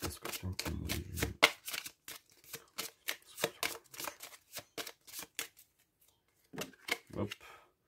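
Tarot cards being shuffled in quick, crisp riffling bursts, close to the mic, with rapid clicking slaps that pause briefly before a few more shuffles near the end; a voice speaks faintly underneath.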